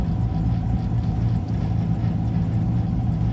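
Rumbling idle from a 1996 Impala SS swapped to a 2017 5.3 liter Gen V engine with a Texas Speed Stage 2 cam, LT1 intake and 90 mm throttle body, a steady close, loud low drone with no talk.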